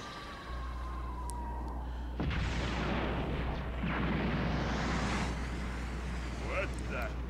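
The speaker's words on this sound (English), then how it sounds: "That firework is going to be annoying." A firework effect in the video game Dragon Ball Z Kakarot during the Namekian saga bursts in as a loud rushing whoosh and blast over a low droning game soundscape, followed by a few faint chirpy effects.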